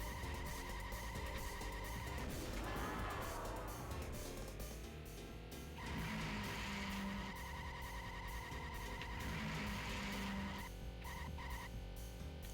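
A ZX Spectrum racing game plays a continuous buzzing, beeping car engine tone, joined by sweeping skid and tire-squeal effects during turns, all loud and synthetic with no talk.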